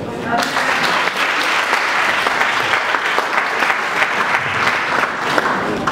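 A church congregation applauds during a Sunday service, steady dense clapping from many hands filling the room without a break, with voices mixed in underneath.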